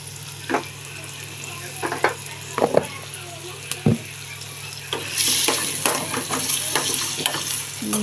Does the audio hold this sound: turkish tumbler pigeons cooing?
no